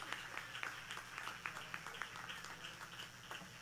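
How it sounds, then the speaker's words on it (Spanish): Applause from a church congregation greeting a psalm singer, a steady patter of many hands with scattered sharper claps over a low hum, moderately loud throughout. "acaban de saludar con fuertes aplausos"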